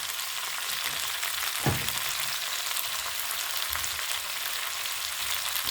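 Coconut milk poured into a pan of frying tilapia, giving a steady close sizzle with one brief louder splash and bubbling burst, then continued frying hiss.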